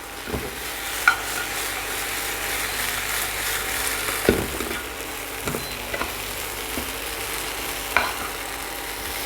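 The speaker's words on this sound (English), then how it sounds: "So this has to get completely mixed with all the wings and even with onions and chilies and with capsicum also." Honey-soy chicken wings tossed with onions, chilies and capsicum in a pan, with steady scraping stirs, a few sharp spoon clacks and a low sizzle running underneath, close and moderately loud.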